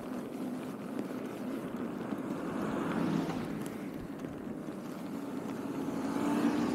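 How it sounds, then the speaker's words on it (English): Strong wind buffets a bicycle commuter in heavy wind and snow in Japan, a steady loud rushing roar that swells slightly toward the end, with no talk. "The wind super strong too."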